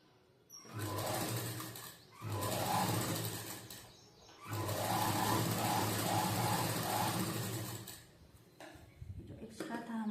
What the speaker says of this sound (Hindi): लास्ट में एक सिलाई दे देनी है।